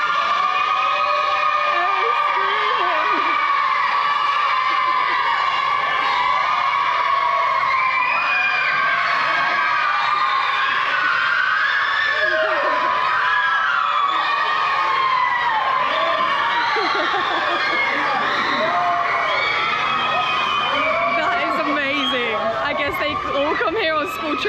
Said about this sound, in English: All come here on school trips and scream in that tunnel.